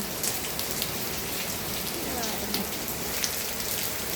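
Steady rain pattering on a hard surface, a dense even hiss of drops with occasional louder splashes, continuous throughout.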